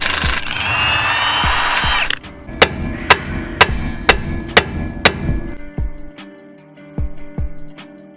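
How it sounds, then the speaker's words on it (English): A hammer strikes a seized pin in a Datsun 240Z rear suspension, about seven sharp metallic blows at an irregular pace. A burst of power-tool noise comes before them and a few lighter taps follow. "Now we've got to hammer this pin through to the top to get it out."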